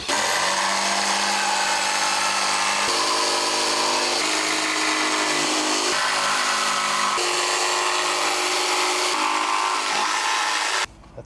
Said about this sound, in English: First I got to start a couple of holes